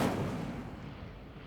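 The Incendio fire spell is cast in Hogwarts Legacy, a brief, close, booming whoosh of flame that bursts at once and fades over about a second and a half.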